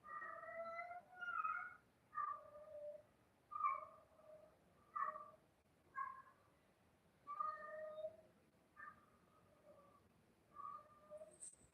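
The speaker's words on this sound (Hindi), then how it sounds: "बिल्ली बोल रही है।" A cat meows repeatedly, about a dozen drawn-out calls with short gaps between them, somewhat faint against a quiet background.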